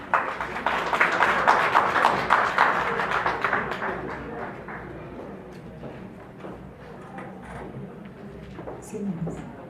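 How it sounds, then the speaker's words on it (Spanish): Lecture audience applauding after a cultural science talk is introduced, dense clapping that peaks early then thins into scattered claps and room murmur. "Un aplauso, por favor."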